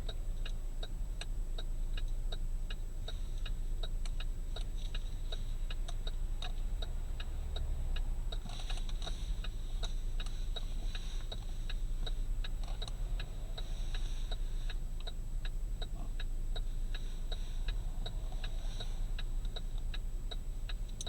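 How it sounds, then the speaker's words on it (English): The turn signal of a 2019 Chevrolet Equinox Premier clicks in a steady, even rhythm over a low engine hum, heard while pulling out of a lot, with nobody speaking. "Loud blinker."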